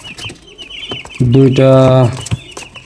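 Newly arrived chickens on a poultry farm give one loud, drawn-out cluck in the middle, with faint bird noise around it and a person talking nearby.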